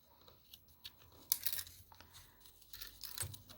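Scissors snip through the tip of a zipper in a quiet close-up, giving a few short crunching cuts and faint rustles of fabric.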